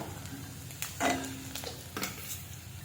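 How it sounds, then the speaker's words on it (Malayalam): Chicken liver fries in hot oil with a low, steady sizzle, broken by a few sharp scraping strokes of a spatula against the pan. "ഒരു വശം ഫ്രൈ ആകുമ്പോൾ മറുവശം പിടിച്ചിടണം ഇതിവിടെ ഫ്രൈ ആയിട്ട് കിട്ടിയിട്ടുണ്ട്"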